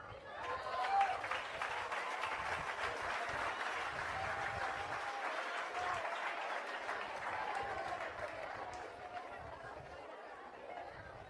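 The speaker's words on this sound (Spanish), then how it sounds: "Dele un aplauso al Señor." A congregation at a Spanish-language youth conference applauds steadily for about eleven seconds, fairly distant, with murmured chatter and a few chuckles mixed into the sustained clapping.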